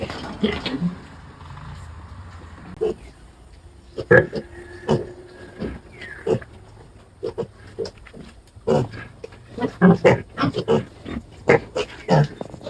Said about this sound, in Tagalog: Ito po yung ating biik.